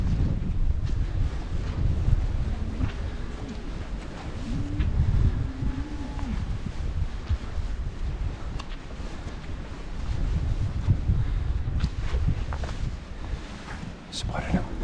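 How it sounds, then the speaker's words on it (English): Wind buffets the microphone on an open hill crest, producing a steady, loud low rumble that swells and eases throughout, with muffled voices at times. "Thankfully the wind's in our face,"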